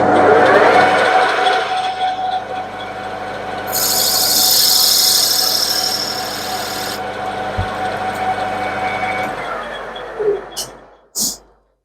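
A lathe cutting tool scores a scratch into a metal cylinder cover, giving a sustained high-pitched squeal over a steady machine hum that stops abruptly near the end.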